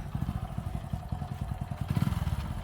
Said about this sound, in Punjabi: ਕਿੱਦਾਂ ਨੂੰ ਚੱਲਿਆ ਹੁਣ ਤਾਂ ਮੋਟਰਸਾਈਕਲ ਲੈ ਕੇ